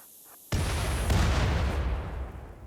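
A large explosion in the video game RimWorld goes off with a sudden loud blast, followed by a heavy rumbling roar that slowly fades over a couple of seconds.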